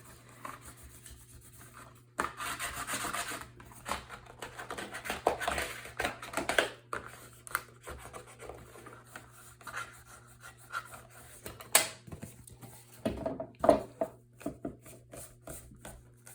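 Paper being smoothed by hand over a mini album cover, a soft intermittent rubbing and scraping with occasional louder rasps and taps, close and fairly quiet.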